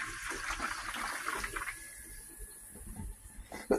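A pump pushes water into the filter tubes of a koi pond setup, making a steady rushing, gurgling flow that is loudest at first, eases to a softer trickle, then ends with a sharp splashy burst.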